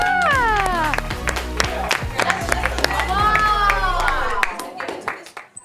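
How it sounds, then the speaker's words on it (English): An audience honours a teacher with scattered, sharp claps mixed with loud cheering and whooping voices, the crowd noise rising and dipping before trailing off near the end. "everybody needs to give their teacher a big round of applause"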